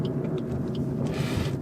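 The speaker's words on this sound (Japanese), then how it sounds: "そのロードノイズがねエンジン音をかき消しちゃう" Inside a moving Suzuki Swift XG (ZC83S), a steady low road-noise rumble from the tyres fills the cabin and masks the engine, with a faint hiss rising briefly near the end.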